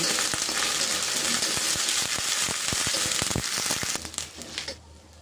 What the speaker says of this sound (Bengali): এখন এই আদা রসুন পেস্টটাকেও আমি তেলের সাথে ভেজে নেব